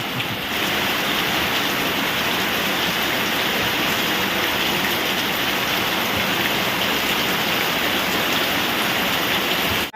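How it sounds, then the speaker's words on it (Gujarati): Steady, dense rain pours down without letup for the whole stretch, a loud hiss of drops hitting surfaces close by. "આપણે મસ્ત મજાનો પાણ જેવો વરસાદ થઈ ગયો"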